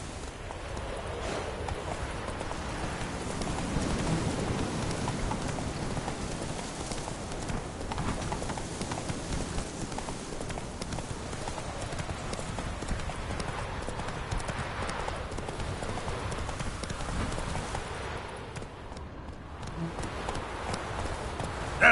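Roach the horse gallops in The Witcher 3, a steady, fast run of hoofbeats that continues throughout over a constant wash of game ambience.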